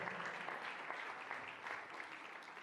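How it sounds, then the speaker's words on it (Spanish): Applause from a church congregation at a youth campus service in Argentina, a dense, quiet patter of clapping that continues steadily for a few seconds without speech. "Ay, gracias por los aplausos."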